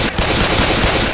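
Rapid automatic gunfire in the Left 4 Dead video game, a loud continuous burst of machine-gun fire sustained across the whole moment with no talking over it.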